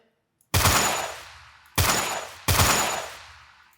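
Three loud, close gunshots ring out in a Unity game as a weapon fires at a wall, each a sharp blast trailing into a long decaying echo, spaced about a second apart.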